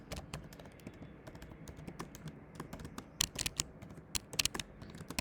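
Quick, uneven clicks of a computer keyboard as code is typed, coming in bursts with short pauses, close and fairly soft, with no talk.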